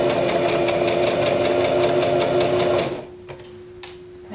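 A sewing machine runs steadily while hemming a skirt, a close, loud rapid stitching whir for about three seconds before stopping, leaving a low hum and a couple of light clicks.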